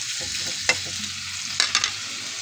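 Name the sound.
frying longganisa sausage in a pan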